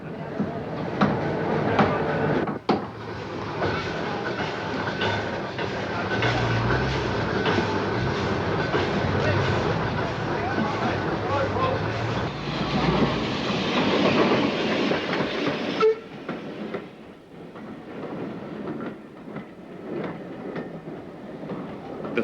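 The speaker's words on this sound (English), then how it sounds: "The first train returns with the guest loco, the pannier from Tyseley." A pannier tank steam locomotive from Tyseley runs with its train on a heritage railway near Tenterden, giving a steady rolling rumble with clickety-clack wheel beats that fades after a sharp shift near the end.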